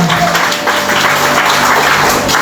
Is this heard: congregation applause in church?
yes